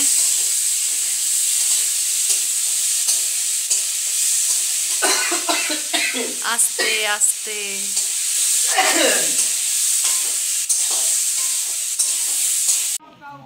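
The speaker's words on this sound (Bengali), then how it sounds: "বন্ধুরা, আজকে আমার বর মশাই রান্না করছে।" A steady, loud sizzle of food frying in a pan in a home kitchen, with scraping stirring strokes and brief bursts of spitting oil; a few soft words are spoken midway over the continuous hiss.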